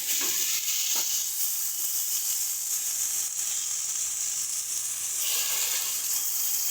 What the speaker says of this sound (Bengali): এবার এর মধ্যে আমরা ছোলার ডালটা দিয়ে দেব।